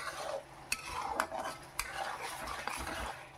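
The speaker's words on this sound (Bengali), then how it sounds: "এবার ভালো করে একটু হালকা নাড়িয়ে চাড়িয়ে নিচ্ছি।" Chicken curry with salt stirred gently in a pan, soft scraping and faint sizzling with a few sharp light clicks of a utensil against the pan, quiet and close with no talking.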